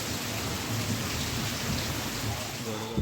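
Heavy unseasonal rain in the Konkan countryside falls in a dense continuous patter while a low rumble of thunder rolls underneath.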